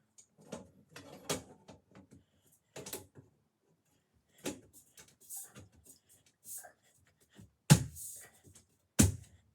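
Amazon Basics smart box spring frame parts snap together in a series of sparse, sharp plastic-and-metal clicks, ending with two loud, close snaps.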